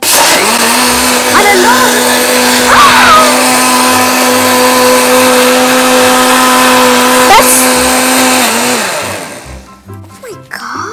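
A kitchen blender whirs loudly and steadily for about nine seconds while blending an Oreo milkshake, then winds down. A person speaks briefly over the motor.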